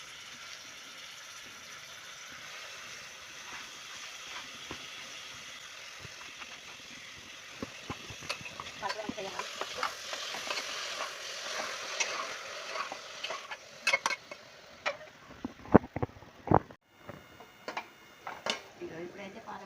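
Spinach frying in a pan for dal, with a soft sizzle that builds, then scraping and stirring clatter that turns into sharp, louder knocks toward the end.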